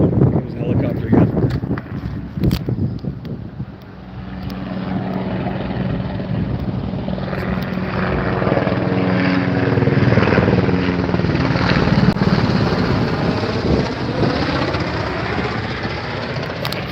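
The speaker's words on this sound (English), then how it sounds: "There's a helicopter again." A helicopter passes over a fast-growing wildfire with evacuations underway, its loud rotor thump and engine drone swelling and lingering overhead, with wind and a voice talking at the start.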